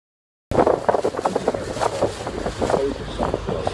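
Steady rushing cold wind buffets the microphone, with a low rumble of a boat moving over water near waterfalls underneath.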